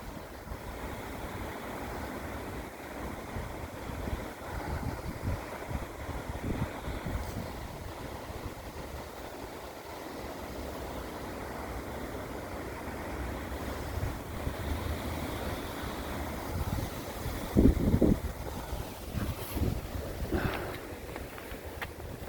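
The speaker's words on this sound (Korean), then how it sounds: "와, 물줄기가 시원하게 떨어집니다." A steady, rushing roar of water falling at Cheonjiyeon Falls in Seogwipo, continuous and broadband, with occasional low thumps and gusts layered over it.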